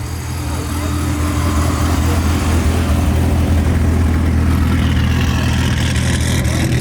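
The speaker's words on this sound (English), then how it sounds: "Listen to the glorious sounds of a Paxton supercharged Gen 2 Viper." A Paxton supercharged Gen 2 Dodge Viper engine at a car show gives a steady, loud, deep rumble that builds slightly, with a constant dense roar and no clear breaks throughout.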